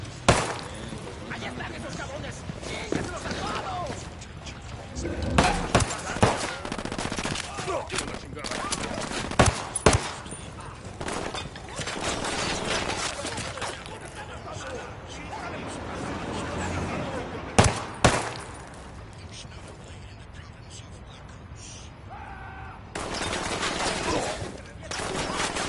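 Submachine guns firing in a tactical firefight, with rapid bursts and sharp single cracks recurring through a loud, dense background rumble, under intermittent voices.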